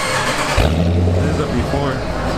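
A Dodge Durango R/T with a 5.7 Hemi and stock exhaust revs once, a brief, loud, low engine rise close by, with a voice speaking over it.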